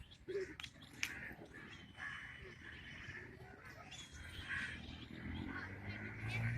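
Crows caw in the Bagh-e-Jinnah park, several harsh calls close by over a low background hum, with a person talking quietly now and then.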